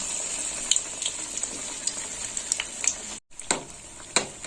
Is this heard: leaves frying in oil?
yes